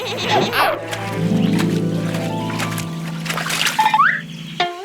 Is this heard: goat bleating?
yes